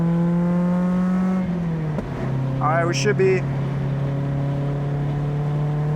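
A Mazda NC Miata on a race track drones with a steady, loud engine note from inside the car, a brief drop in pitch at a gear change, and someone talking over it.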